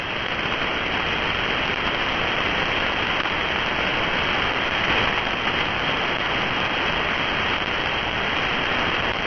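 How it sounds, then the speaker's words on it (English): Steady rain drums on a tin roof, a dense continuous hiss of drops that stays even and loud throughout with no talking. "Listening to the rain on a tin roof."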